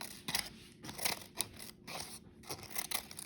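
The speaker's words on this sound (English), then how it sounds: "I'm going to use my scissors to give the paper a little bit of a texture" Scissors make a series of quick, close, quiet snips through paper, cutting short straight strips in an irregular rhythm of crisp blade closures.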